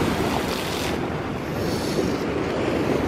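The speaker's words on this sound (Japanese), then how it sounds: "波しぶきがドボーンって。" Sea waves crash against cliffs, with swells of about three to four metres, giving a loud, continuous rush and roar of surf mixed with gusting wind buffeting the microphone.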